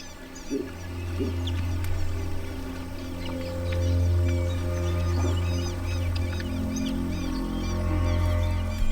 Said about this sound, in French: Tous les oiseaux amateurs de poissons viennent se joindre au groupe.